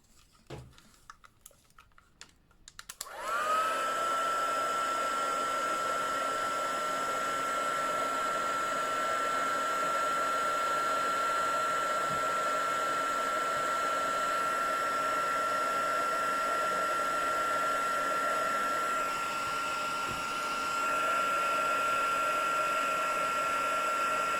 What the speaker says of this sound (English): So I just need to heat set this now.